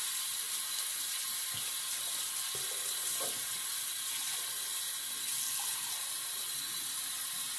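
Cold tap water streaming steadily onto a shaving brush at a sink, a continuous close hiss of running water with faint splashes, no voices.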